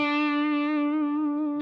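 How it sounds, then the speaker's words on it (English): One sustained electric guitar note is played with wide vibrato, wobbling in pitch as it rings out steadily for under two seconds through a mildly overdriven tone, with nothing else heard. "Wide vibrato of the same note might sound like this."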